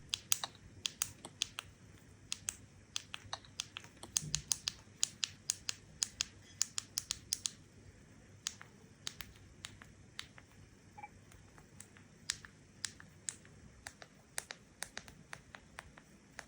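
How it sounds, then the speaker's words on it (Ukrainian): Sharp, loud plastic clicks of a Redmi Note 12 Pro phone's side button pressed over and over, repeated in quick irregular bursts, close up; no voices. "звук при натисканні мені категорично не сподобався. Клацання якесь дуже вже гучне і віддає дешевизною."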